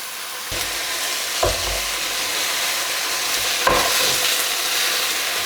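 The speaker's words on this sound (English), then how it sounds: "So I am mashing this meat in the dark." Meat sizzles loudly in a frying pan as it is mashed, a constant hissing fry broken by a few sharp scraping knocks of the utensil, no voices.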